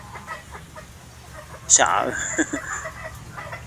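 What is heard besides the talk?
hens clucking while eating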